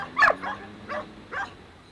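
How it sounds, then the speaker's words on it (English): Dogs give three short, sharp barks and yips in a loose pack walking through Bucharest streets, spaced about half a second apart, fairly close. "Bruce Lee, his minder, and about 15 dogs"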